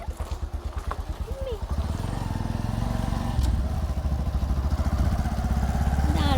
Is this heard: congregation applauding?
no